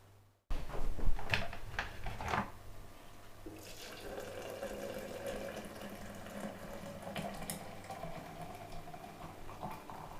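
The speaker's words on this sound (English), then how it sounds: "Now the kettle has been boiled, so what I'm going to do is to pour some boiling water into this tin to rinse the rest of this out" Boiling water from a kettle is poured into a metal tin, making a brief clatter and then a steady, continuous gush and splash that fills several seconds. Nobody speaks.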